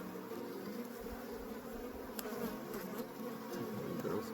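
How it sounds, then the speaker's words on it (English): Honey bees buzz around an opened hive during a spring inspection, a continuous close, irritated droning hum with individual bees zipping past the microphone. "A couple of French bees. They look a little irritated at me here."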